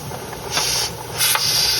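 Steady steam hiss from a pressure canner processing chicken breasts, with a couple of louder surging puffs, fairly close and without voices.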